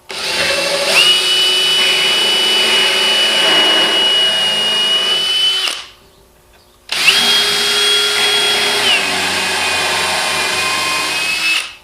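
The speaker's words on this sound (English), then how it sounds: "Now I'm going back with the countersink it to the right depth." A power drill countersinks pre-drilled screw holes in a simple closet/desk build: two long, loud, steady whining bursts of about five seconds each, separated by a brief pause.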